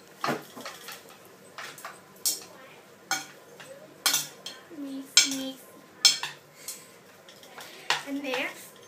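A utensil stirring and clinking against a mixing bowl as ingredients are combined, light scraping strokes in an irregular rhythm, close and fairly quiet, with talking in between.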